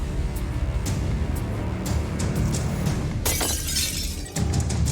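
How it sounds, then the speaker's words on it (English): A sledgehammer strikes a jewelry store's safety glass door, heard through a doorbell camera as repeated sharp impacts over steady background noise, with one loud, bright crash of breaking glass near the middle. "And he smashes the door."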